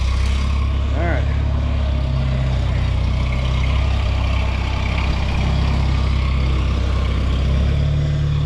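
A Farmall Super A tractor engine idles steadily while warming up, a loud continuous low rumble close by.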